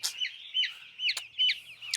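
Broiler chicks chirp in quick, high, close bursts, several peeping calls overlapping in a steady irregular rhythm with no talk.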